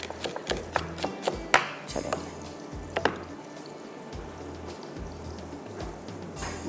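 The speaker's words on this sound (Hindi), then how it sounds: "थोड़ा बारीक चॉप कर लेती हूँ" A knife finely chops onion steadily on a board in quick, uneven taps, with a low hum and faint kitchen clatter underneath.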